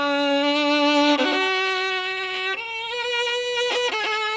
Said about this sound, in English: If you have a slow bow, you cannot put as much pressure as you did, because then you'll scratch.